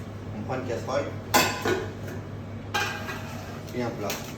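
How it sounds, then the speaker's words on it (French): A saucepan being taken out in a kitchen, with clanking pots and cutlery rattling in a few sharp bursts close by, over a steady background hum. "Au bout de 10 minutes, on prend une casserole"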